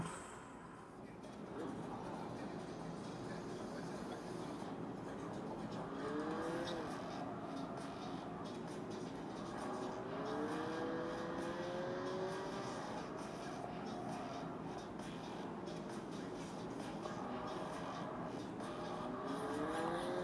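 A Honda Civic Estilo drives through a city in a mobile video game, its engine humming steadily and shifting pitch as it accelerates, faint under someone speaking throughout.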